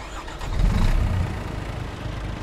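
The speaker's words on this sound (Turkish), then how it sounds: "bir çalıştıralım aracı" A Scania V8 truck engine turns over and catches in snowy weather, a loud low rumble building to a heavy idle that settles and keeps running close by.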